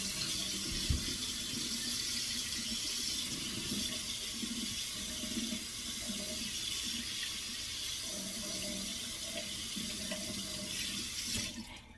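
Tap water runs steadily into a kitchen sink while sisterlocked hair is shampooed under it, a continuous close rush with faint splashes, no talking.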